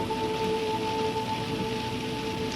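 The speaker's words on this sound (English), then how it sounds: "Just not used to seeing this much rain." Heavy rain pours down in a continuous, dense hiss, steady and fairly close, with a faint constant tone running underneath and no one speaking.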